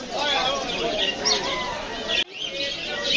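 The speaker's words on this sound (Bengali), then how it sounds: "নানা রকমের পাখি আছে এই যে কোকাটেল" Busy chatter of cockatiel calls, shrill whistles and squawks overlapping continuously at close range, with people talking over the flock.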